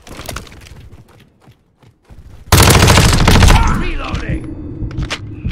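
Rapid automatic MP5 bursts in a Call of Duty MWII multiplayer match erupt loudly after a quieter stretch of faint taps, a sustained rattling volley that tapers off with lingering echoes.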